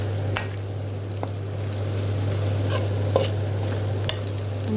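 Vegetable pasta with spring onions being stirred in a hot pan, soft scraping and sizzling over a steady low hum, with a few sharp utensil clicks against the pan.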